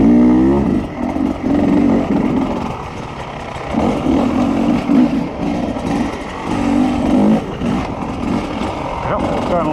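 A 2021 Beta 250 RR dirt bike on a trail ride drones loudly and close, its engine note rising and falling continuously while the rider talks over it.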